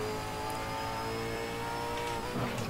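A V8 Supercar race car accelerating on a circuit during a test drive, heard from inside as a steady, loud engine drone that rises in pitch, with a brief shift in tone near the end.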